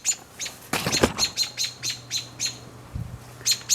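A robin chirps near its nest in a garden, a string of short, bright repeated tweets at moderate distance, with a brief louder burst of fluttering or rustling early on.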